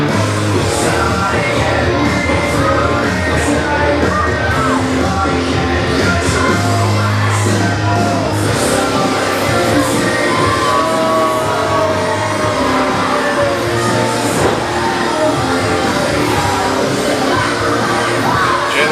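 Capacity crowd at a Warriors of Wrestling event in Breezy Point, loud and sustained shouting, yelling and whooping without a break, a dense roar filling the whole stretch.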